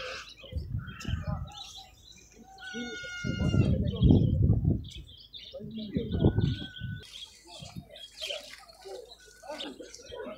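Caged birds, including budgerigars and doves, chirp and tweet in bursts at an outdoor bird fair in Kropotkin, under frequent nearby talk from people.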